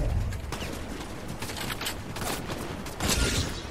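Gunfire in the video game Fortnite crackles as a dense, steady volley of shots close by, with a louder burst near the end.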